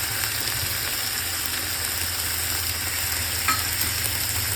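Paneer chilli stir-fries in a hot pan with soy, red chilli and tomato sauces, a dense continuous sizzle with soft stirring scrapes, close and steady, no voices.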